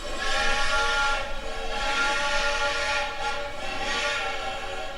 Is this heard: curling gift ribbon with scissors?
no